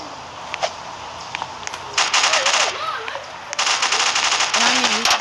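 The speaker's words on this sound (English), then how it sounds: "you can stop and not spamming the freaking SMG" Rapid SMG bursts in the Roblox shooter Strucid, two long loud automatic volleys after a few scattered single shots, with faint voice-like sounds in between.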